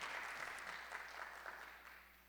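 A seated audience claps to welcome the president of the Korea International Sommelier Association at a tea sommelier competition final, a fairly faint, steady patter of many hands that eases off slightly toward the end.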